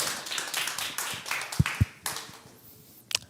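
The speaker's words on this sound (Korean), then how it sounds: "멋진 손성지 목사님 나오실 때 큰 박수로 환영해 주세요." Audience applause welcoming a pastor at a church worship service for a whole school, a scattered round of clapping that thins out, with a few louder individual claps and taps near the end.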